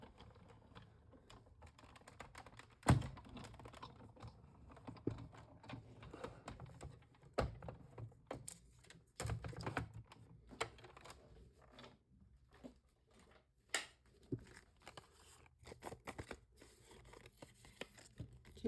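Die-cutting machine feeding a sheet of cardstock, held with low-tack tape, through its rollers with Basic Border dies: a quiet stretch of scattered clicks, rustles and brief sharp taps, with a louder knock near the start and no talk.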